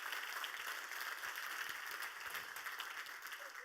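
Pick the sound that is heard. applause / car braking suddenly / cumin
applause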